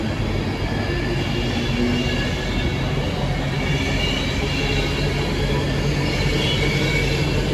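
Train departing Wigan North Western station, a loud continuous rumble of rolling wheels and carriages passing close by with steady roar throughout, talk faintly underneath.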